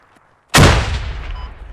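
Squad military game: a single heavy mortar launch booms suddenly after a quiet moment, then a long rumbling tail fades over the next second.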